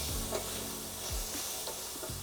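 Beef stir-frying in a pan for beef and broccoli, a steady soft sizzle with a few scraping stirs, heard close but fairly quiet.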